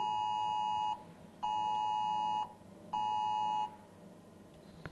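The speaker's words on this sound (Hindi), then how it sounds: "इमरजेंसी फ्लड वार्निंग का फीचर दिखाता हूं।" A mobile phone emergency flood warning alert sounds three times: a loud, sustained electronic tone with harmonics in each burst, separated by short pauses, over faint background noise.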